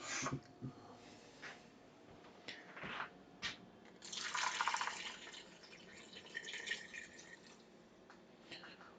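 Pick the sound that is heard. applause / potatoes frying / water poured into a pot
water poured into a pot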